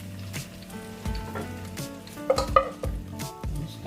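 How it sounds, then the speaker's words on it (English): Potatoes sizzle and crackle steadily in hot oil, with occasional clinks and scrapes of a utensil against a pan. "You hear them sizzle as soon as they go in."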